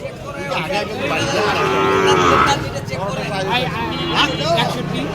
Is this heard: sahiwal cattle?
yes